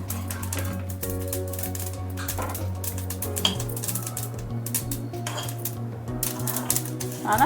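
Dry spices and ingredients being fried in a pan for a stuffed eggplant masala curry, with steady clinking and scraping of a spatula against the pan over a low hum.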